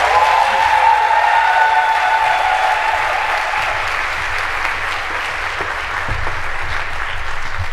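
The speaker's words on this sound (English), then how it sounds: "Please give Assistant Secretary Satterfield a round of applause as she joins us on the stage" An audience applauds steadily as an assistant secretary walks onto the stage, a continuous crowd clapping that holds at an even level, with a faint tonal hum in the background early on.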